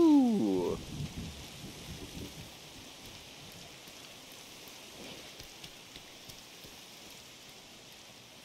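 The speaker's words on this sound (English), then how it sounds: "It's raining." Steady rain hiss in the video game Sifu fills the scene at moderate level, with a brief tonal sweep and thuds at the start and scattered small knocks throughout.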